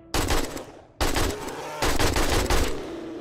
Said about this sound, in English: One shot from the pipe rifle